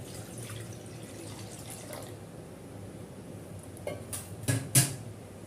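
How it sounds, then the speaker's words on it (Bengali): Water poured into a wok for boiling noodles, a faint splashing trickle followed by a few louder clanks and splashes near the end. "তার জন্য কড়াইতে হাফ লিটার জল দিয়ে দিলাম।"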